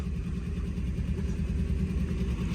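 A 1958 Edsel Corsair hardtop's engine runs steadily at idle with the hood open. The exhaust note is a continuous, close, fairly loud low rumble that holds even throughout with no talk.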